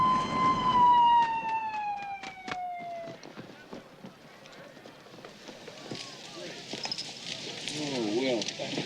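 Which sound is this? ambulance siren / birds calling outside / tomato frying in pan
ambulance siren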